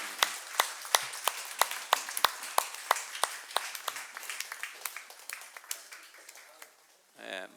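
A church conference audience stands and claps to welcome a pastor, with scattered distinct handclaps at first that thin out and fade, followed by a brief murmur at the end.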